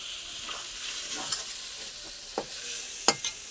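Chicken frying and being stirred through a spice masala in a pan, giving a steady soft sizzle broken by a few sharp scrapes and clicks of the spoon, with no voices.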